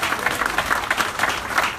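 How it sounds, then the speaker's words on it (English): Applause from an audience at an outdoor park corridor ribbon-cutting ceremony, a steady dense round of clapping filling the whole moment at moderate loudness. "And I want to also ask you to give my mentor and friend, Senator Kim Lightfoot, a round of applause"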